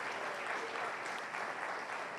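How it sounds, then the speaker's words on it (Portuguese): A church congregation claps together in a dense, sustained burst of applause, heard at a distance and fairly soft, with no voices over it. "Você que valoriza isso, aplaude e glorifique o Senhor. Bem alto, bem forte."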